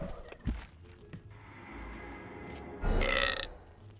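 A hellhole in the video game Dungeons 3 gives a loud, gurgling burp after swallowing a sacrificed hero, rising suddenly and lasting about half a second over low rumbling game ambience, with earlier thuds and a droning hum.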